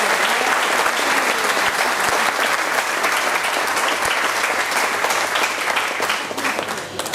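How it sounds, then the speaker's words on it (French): Loud, sustained applause from a large crowd at an international political gathering in Corte, Corsica, thanking a speaker for a message of friendship; dense continuous clapping with occasional sharper claps, easing slightly near the end. "Je vous demande de l'applaudir pour le remercier de ce message d'amitié."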